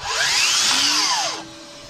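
A Makita 18V x2 LXT brushless miter saw (DLS111) spins up and runs loud and steady with a broad whine alongside a vacuum cleaner started through AWS, then winds down after about one and a half seconds, leaving a lower motor hum.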